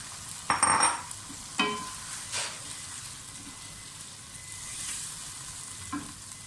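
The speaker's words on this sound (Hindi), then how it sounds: "अच्छा, अब इसमें छोलियाँ डाल दें जो ग्रीन बीन्स हमने रखे हुए हैं।" Green chickpeas tipped into a hot pan of oil for pulao, giving a loud sizzle that bursts up as they land, then settles into a steady frying hiss with a few stirring scrapes.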